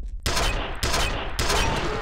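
Heavy automatic gunfire from a weapon in the video game F.E.A.R., three loud sustained bursts of rapid shots with brief gaps between, close and dense.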